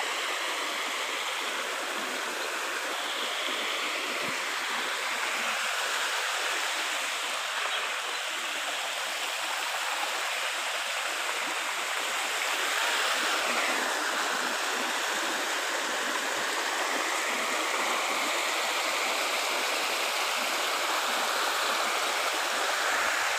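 Water flows continuously in a stream on a farm, an even, hissing rush that stays close and steady throughout with no voices.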